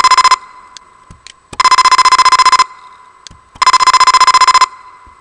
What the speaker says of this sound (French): on peut dès maintenant écouter la sonnerie finale obtenue par ce circuit